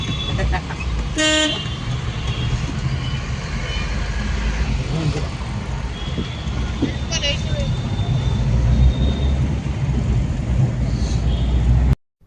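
Heavy road traffic rumbles in a steady, close roar, punctuated by a couple of short, sharp car horn toots near the start and middle.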